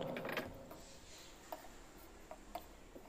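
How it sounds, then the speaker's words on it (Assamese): A sewing machine stitches a blouse puff sleeve, with faint, quick mechanical ticking and whirring and a few brief louder clicks, quiet and close. "চিধা চিধি ইফালেও আমি এটা চিলাই লগাই ল'ম"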